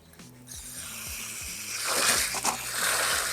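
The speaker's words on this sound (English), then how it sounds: "We're gonna add some water here, our local spigot" Water from an outdoor spigot runs into a muddy DIY mix for a front porch, a rushing splash that builds and grows louder partway through, over a low rhythmic mechanical hum.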